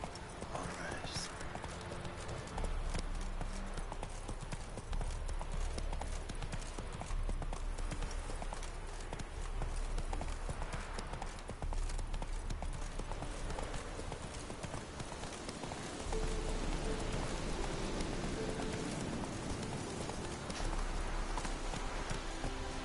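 Hooves of the horse Roach galloping and trotting in The Witcher 3 on PS4, a fast rhythmic clip-clop that speeds and slows, with occasional whinnies and talk over it.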